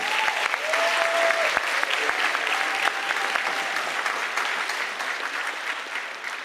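A high school audience at a speaking event breaks into sustained, dense applause that holds steady and tapers slightly toward the end, with a few faint whistles and voices over it.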